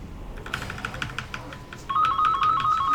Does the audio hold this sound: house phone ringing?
yes